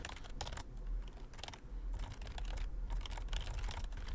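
Close, brisk typing on a computer keyboard with a few firmer key presses, steady and fairly quiet over a low background hum, with no talk.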